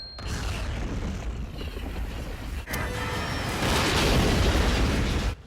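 A loud, sustained explosion from the sci-fi film Battlefield Earth, a dense roaring blast that swells and rumbles for several seconds with a brief dip partway through, then surges louder before cutting off.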